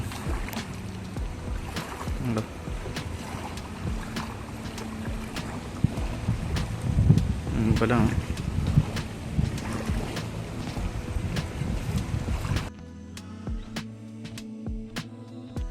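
Water slapping and lapping in sea-like waves near a toddy shop in Kannur, with steady wind noise and boat-like knocks for most of the span, the wash dropping away sharply near the end.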